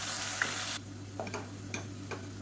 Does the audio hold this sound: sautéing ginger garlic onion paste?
yes